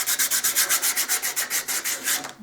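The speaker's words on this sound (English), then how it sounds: "I'm kind of sanding those down, making sure I don't have any stuff hanging over the edge." Small parts of a model beach bungalow are sanded smooth along their edges in about sixteen quick, even back-and-forth rubbing strokes, close and fairly loud, with no other sound.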